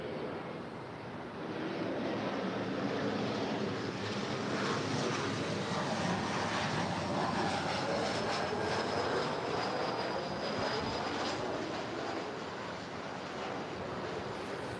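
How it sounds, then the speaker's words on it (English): A Hawaiian Airlines Airbus A330 arriving at LAX from Honolulu gives a loud, steady jet roar that swells in after about two seconds and holds broadly for the rest of the stretch, with a faint high whine riding on top and no voices. "Hawaiian Airlines Flight 10 coming in from Honolulu, the A330"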